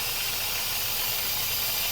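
An Instant Pot pressure cooker cooking collard greens vents steam in a steady, loud, continuous hiss that runs unbroken with no talking.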